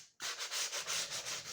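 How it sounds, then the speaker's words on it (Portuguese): Sandpaper rubs back and forth over a larger HO-scale model railway platform in steady, close strokes, about seven even passes after a brief silent start, with no voices. "Aqui nós estamos lixando agora a plataforma maior"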